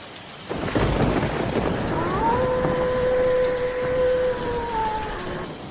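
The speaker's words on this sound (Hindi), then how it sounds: "आसमान में बिजली कड़कती रही और ज़ोर ज़ोर से बारिश पड़ती रही।" Heavy rain pours steadily with rumbling thunder, while a long tonal drone runs through the middle of the storm.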